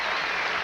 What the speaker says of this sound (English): This crowd really appreciating the tennis out there as Enqvist thought he had him.